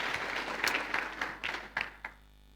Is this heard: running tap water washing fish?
no